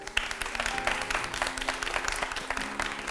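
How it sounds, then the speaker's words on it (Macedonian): Studio audience at a Macedonian TV game show bursts into loud, sustained applause, dense clapping filling the space evenly from start to finish. "Еден аплауз за тие што како мене што плаќаат со траен налог."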